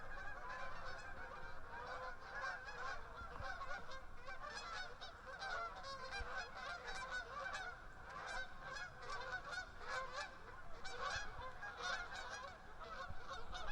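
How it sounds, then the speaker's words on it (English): A flock of Canada geese honking continuously in winter, many overlapping calls at moderate distance, steady and busy throughout with no talking. "Here come the geese."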